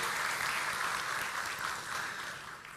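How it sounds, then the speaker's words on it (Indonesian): Applause from a crowd gathered at a speech event, steady and dense clapping that fills the whole moment at an even level before easing slightly toward the end. "Aplaus buat beliau."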